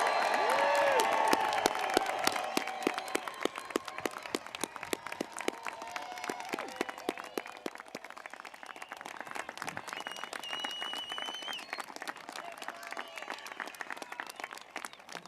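Applause and cheering for a high school graduating class at a commencement ceremony, a large crowd clapping steadily with scattered shouts, heard from a distance and fairly faint.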